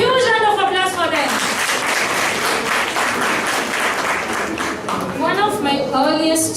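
Audience applause for a children's performance at a school show, a steady full-room clapping that carries on throughout, with a speaking voice briefly audible over it at the start and end.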